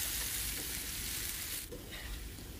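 Pineapple stir-frying with sugar in a hot pan, a steady close hiss of sizzling with light stirring scrapes, easing slightly near the end.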